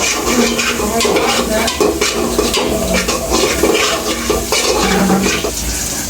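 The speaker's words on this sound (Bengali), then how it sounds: "এখন তেল দেওয়া হলো তেল দেওয়া এগুলো ভালোভাবে নাড়াচড়া করতে হবে সুন্দর মশলাটি কষানো হচ্ছে" Spices fry in oil for vegetable khichuri, making a loud, continuous hissing sizzle. The stirring scrapes through the hiss, close and unbroken, with no voices.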